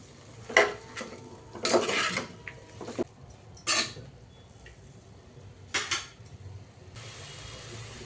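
Tomato and meal maker pulao being stirred in a pot, with several separate scraping clatters of a spoon against metal over a faint background sizzle.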